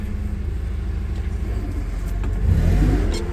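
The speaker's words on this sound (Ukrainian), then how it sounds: "Нейтраль назад все я на газ натиснув, навантажувач їде." A Toyota 02-8FGF20 gas-powered forklift pulls away under throttle, its engine a steady low rumble that swells louder and rougher near the end as it drives off, with no talk over it.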